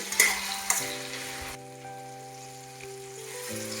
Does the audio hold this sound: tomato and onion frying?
yes